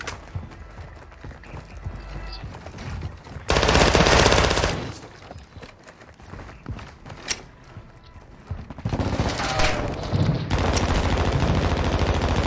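Machine gun fire in a shooter video game comes in loud, sustained bursts of rapid shots, close and dense, alternating with quieter stretches of scattered gunfire and movement, with occasional voices.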